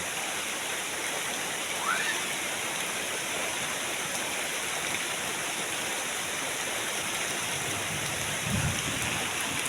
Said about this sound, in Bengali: বৃষ্টি পরে টাপুর টুপুর শব্দ শোনা যাচ্ছে বৃষ্টি হচ্ছে এখন জোরে বৃষ্টি হচ্ছে